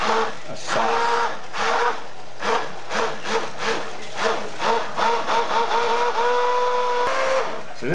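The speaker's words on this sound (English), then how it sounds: "I'm using my stick blender to create a sauce." A handheld stick blender whirs steadily while blending black bean sauce in a container, with pulsing changes in its tone as it works through the contents, close and fairly loud.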